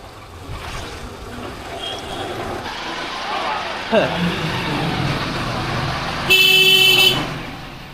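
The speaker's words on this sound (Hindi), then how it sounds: "खंडवा के भयंकर ट्रैफिक से निकलकर हम आ गए हैं दादा धुनी वाले स्थान के मुख्य मार्ग पर" Heavy road traffic in Khandwa: a constant rumble of engines and passing vehicles, a loud car horn blaring for about a second near the end, and someone talking throughout.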